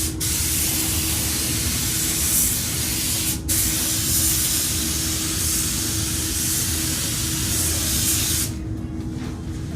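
A spray gun lays the first coat of paint during an all-over car respray, giving a steady, close, loud hiss that runs unbroken for nearly ten seconds with one brief dip partway through.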